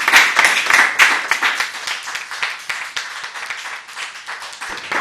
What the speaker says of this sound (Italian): un applauso di incoraggiamento